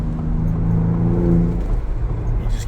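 Ford Bronco Raptor exhaust revving in sport mode, a loud, steady engine drone with a rising harmonic whine near the middle, then settling as it rev-matches, close and alone.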